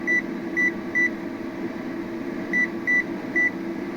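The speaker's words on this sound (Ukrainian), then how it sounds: "Отак чути звук термометра." A homemade electronic temperature station built for a distillation column gives short high beeps, with its sound amplifier switched off. Two groups of three quick beeps rise over a steady low electrical hum.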